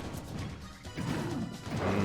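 Forward smash attacks landing in a Super Smash Bros. match, two heavy crashing hits in quick succession amid steady game noise.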